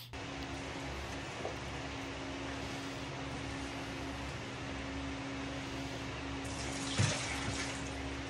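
Brine sloshing and trickling as it is scooped from a container holding a soaking apple citrus turkey, a steady watery wash with one louder splash near the end.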